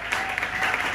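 A church congregation at a Sunday service breaks into brief, dense applause, a continuous wash of many hands clapping at once.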